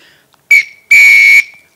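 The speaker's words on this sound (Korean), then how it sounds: "호루라기입니다." A pea whistle like a gym teacher's, modified with an extra hole on each side for three openings in total, gives two loud shrill blasts, a short one and then a longer sustained one, with no talk.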